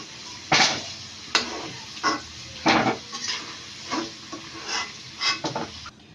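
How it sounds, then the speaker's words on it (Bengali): Potatoes fry in mustard oil in a wok, a soft sizzle running beneath repeated sharp scrapes and clinks of a utensil against the pan at an uneven pace. "ভাজা হয়ে গেছে, এবার আলুগুলো তুলে নেব।"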